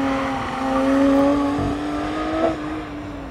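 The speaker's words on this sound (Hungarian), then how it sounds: "Végre az, hogy hallom is, hogy megy egy autó" On a tight race track, a car is pushed through a timed lap. Its engine note climbs steadily as it accelerates, then briefly dips and picks up again, close and fairly loud.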